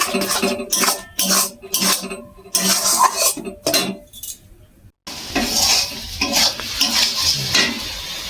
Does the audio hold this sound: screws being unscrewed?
no